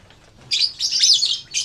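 Young lovebirds chirp in a breeding cage, a burst of shrill, rapid tweets close by following a brief quiet moment, continuing in choppy bursts.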